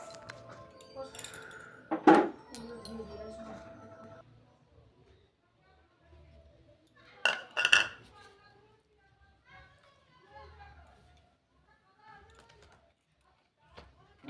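Chopped greens being mixed with cornflour and eggs in a bowl, giving scattered clinks and scrapes of utensil on the bowl, with two louder bursts of clatter amid soft background voices.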